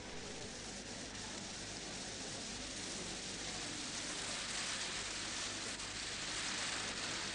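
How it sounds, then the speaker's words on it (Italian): Steady, even hiss of rain falling on a motor-racing track, a dense broadband patter with no clear drops, constant and fairly loud, with no voices. "Ehi, guardate, piove!"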